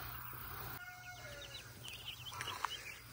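Meat bird chicks cheep in a brooder, faint scattered peeps over a low hum of background noise, with no voices.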